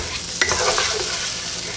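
Garlic green beans sizzle in a hot pan as a utensil stirs them, a brief close scrape over a steady loud fry.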